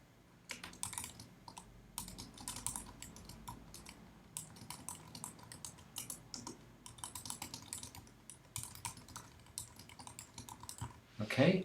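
Bullet list text being typed on a computer keyboard, quick irregular bursts of key clicks close up and steady, ending with a heavier clatter.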